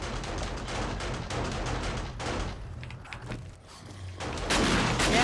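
Turrets in the survival game 7 Days to Die fire at approaching zombies in Insane mode, a dense, continuous volley of gunfire with bursts and booms that dips briefly midway and then swells again, loud and close.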